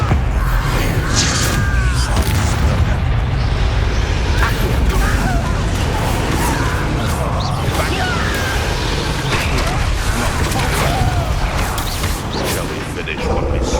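Explosion spells such as Bombarda set off in a PS5 fantasy action game, with dense booms and crashes over a loud, busy game soundscape as characters speak throughout.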